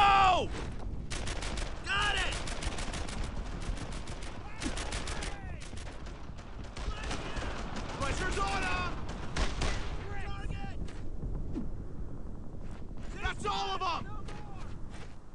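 Bursts of gunfire crackle through a battle in the game Brothers In Arms: Earned In Blood, rapid volleys and single shots layered over shouted voices, with dense firing that keeps recurring across the scene.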